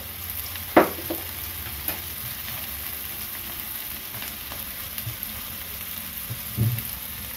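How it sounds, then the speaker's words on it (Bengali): Chopped onions and green chillies half-frying in oil in a pan, a low continuous sizzle broken by a few sharp clicks and scrapes of stirring, with no one talking. "পেঁয়াজটাকে আমি ফ্রাই করে নেব, পুরো লাল নয়, হাফ ভাজা।"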